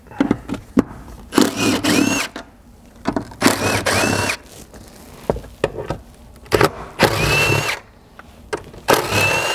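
Ratcheting socket wrench with a 14 mm socket loosening the four mounting bolts on a Toyota Land Cruiser 200 Series, heard as several close bursts of clicking and rattling separated by short pauses.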